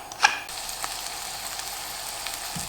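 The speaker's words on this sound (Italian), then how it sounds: "e le dobbiamo far rosolare bene bene." Lentils and rice browning in oil in a hot pan: a steady, even sizzle runs throughout, opening with a brief clatter and followed by small scraping stirs, close and moderately loud.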